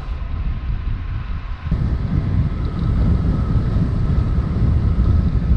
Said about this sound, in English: I can still feel the strength of the wind on my back.